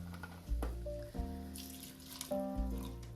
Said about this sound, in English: Now our onions are tender and cooked, and so we're going to add our beef broth next